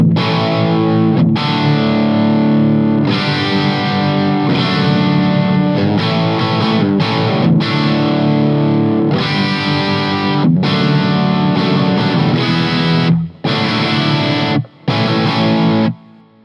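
Heavily distorted electric guitar chords ring out loud and thick through a Friedman Small Box amp, humbucker bridge pickup, with brief stops and restarts near the end.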